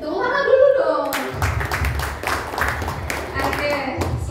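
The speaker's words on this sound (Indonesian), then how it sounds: "tepuk tangan dulu dong" Audience clapping at a health seminar in a hotel, a short burst of scattered hand claps that starts after a voice speaks, with chatter underneath.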